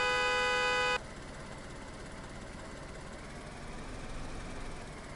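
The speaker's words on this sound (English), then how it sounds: "Do you hear my horn?" A car horn sounding in the survival game DayZ, one steady blare lasting about a second, followed by the vehicle's engine idling and rumbling on underneath.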